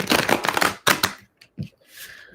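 Tarot cards being riffled and shuffled up close, a few quick rustling bursts followed by softer taps and slides as the deck settles.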